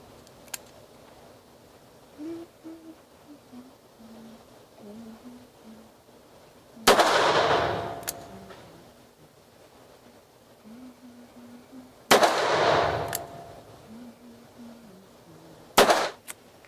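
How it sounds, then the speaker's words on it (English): Three loud gunshots from a .45 Long Colt handgun fired outdoors, each a sharp crack with a short decaying tail, spaced several seconds apart, with faint talk in between. "So I just shot the 45 long Colt."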